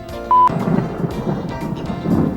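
Thunder rolling after a lightning strike on the Big Sur coast of California, a low, steady rumble sustained throughout, with a brief tonal beep near the start.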